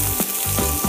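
Onions sizzle loudly in a cast iron skillet for a vegan chili, a close, steady frying hiss broken by quick stirring scrapes, with no speech.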